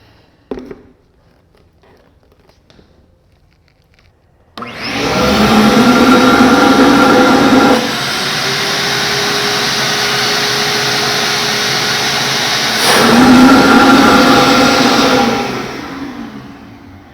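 A shop vacuum drawing through a Dust Deputy cyclone separator switches on after a quiet moment and a click, then roars loudly and steadily, its pitch dipping midway and rising again before the end.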